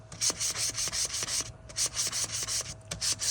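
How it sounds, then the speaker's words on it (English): Close, steady back-and-forth rasping of a fine grit sanding sponge on a painted bi-fold louver door, in quick rhythmic strokes with a brief pause midway. "I'm using a fine grit sanding sponge and I'm scratching the paint"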